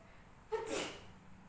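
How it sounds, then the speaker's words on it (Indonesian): One single short sneeze sounds close by against a quiet room, with faint breathing around it. "Bersin tanda tidak ngantuk."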